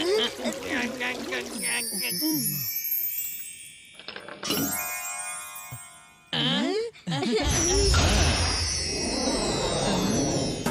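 Water pours and trickles into a vessel with clinking glassware, amid music and brief sound effects; no one speaks.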